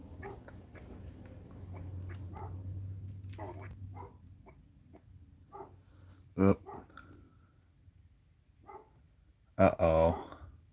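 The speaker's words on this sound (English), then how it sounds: "we'll go check on the dog because I hear her barking" A female dog barks outdoors in a couple of short, sharp bursts a few seconds apart, moderately distant, while a person talks quietly nearby.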